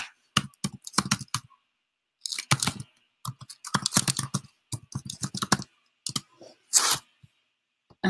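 Quick bursts of typing on a computer keyboard into a chat box, close and clicky, coming in irregular clusters with short pauses between them and no talking.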